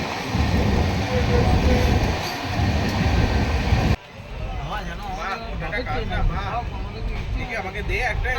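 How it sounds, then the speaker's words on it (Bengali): A passenger train from Howrah to Digha runs at full speed with a steady rumble of wheels on rails. The sound shifts abruptly partway through, and people talk over the train noise. "তো ট্রেন চলেছে একদম স্পিডে"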